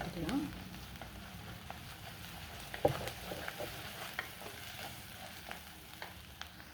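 Ginger-garlic paste being stirred into fried onions in a pan, a quiet low sizzle broken by scattered scrapes and light clicks of the spoon, with faint murmuring now and then.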